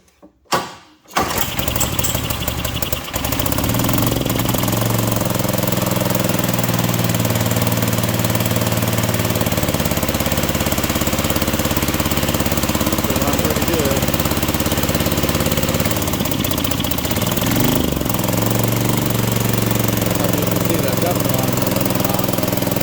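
A Springfield engine with the choke down starts after a brief cranking burst and then runs steadily and loudly, a continuous close rough drone with a slight throttle change partway through.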